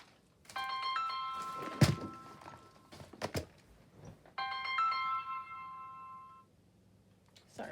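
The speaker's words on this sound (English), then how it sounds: "Send that to voicemail." Mobile phone ringtone from an incoming call, a bright electronic melody played twice at moderate loudness with a couple of soft thumps between and no talking over it.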